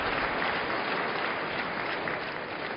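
Steady, dense applause from a table tennis crowd at a World Cup match, filling the whole stretch at an even, loud level with no breaks.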